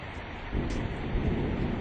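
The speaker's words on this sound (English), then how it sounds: "It is raining." Steady rain falls hard over a low, rumbling roll of thunder that swells partway through, a dense wash of noise with no voices.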